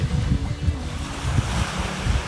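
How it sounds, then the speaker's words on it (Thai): Sea waves roll onto the beach at Samui, Thailand, with surging rumbles and wind buffeting the microphone, loud and close throughout. "ทะเล"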